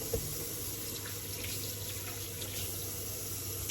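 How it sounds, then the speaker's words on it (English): Hands being washed under a running kitchen tap, a steady close hiss of flowing water splashing into the sink with faint shifting as the hands move, no talk. "So I'm just washing my hands here"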